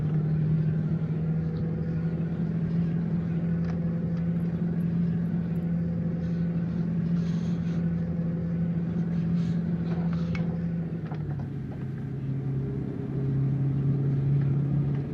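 A steady, droning Scania R440 truck engine in Euro Truck Simulator 2 with ProMods on winding roads, holding a low hum that drops in pitch briefly before settling again.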